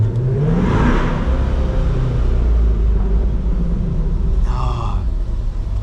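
A new C8 Corvette gives off a deep, loud rumble with a rising rev near the start and another sharp rev burst toward the end, close and powerful.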